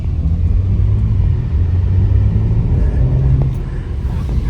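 A BMW car's engine rumbles loudly and steadily as it accelerates on a city road, heard from inside the cabin with a constant low drone and no talk.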